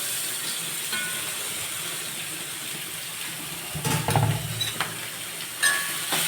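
Shredded cabbage tossed into a hot pan of mustard-seed and curry-leaf tempering gives a continuous soft sizzle and hiss, with a louder burst of frying and clatter midway and another brief flare near the end.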